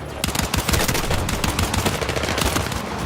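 Sustained automatic gunfire in the video game Battlefield 6, a loud, dense stream of rapid shots with no talk over it.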